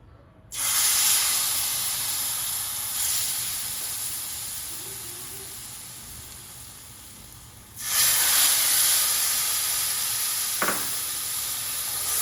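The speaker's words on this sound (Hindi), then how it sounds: "अब हम इसमें ऐड करेंगे 1 प्याली दूध।" Milk poured into hot semolina halwa in a pan, erupting into a loud bubbling hiss that slowly fades, followed by a second burst of sizzling as more milk goes in, with a brief scrape of stirring.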